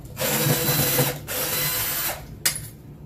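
A drill driver backs screws out of drywall in two loud, buzzing runs with a ratcheting edge, followed by a short sharp burst, close up.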